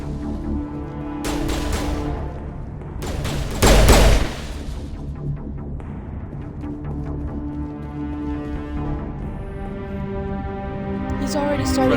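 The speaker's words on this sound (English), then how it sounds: "Kaidan just shot a thing again. Like, you are shooting nothing." Kaidan shooting in the video game Mass Effect 1, a rattle of gunfire with one loud, dense burst near the middle over a droning game score and ambient tones.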